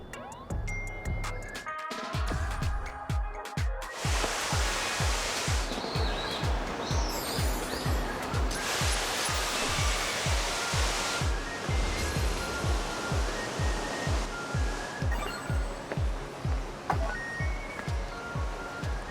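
A steady, broad rush of falling water fills a forest setting, loud and continuous throughout, with faint bird chirps above and a rhythmic patter like footsteps in the foreground.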